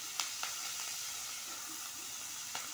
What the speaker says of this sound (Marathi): ती मेथी पण आपल्याला टाकून घ्यायची आहे फोडणीमध्ये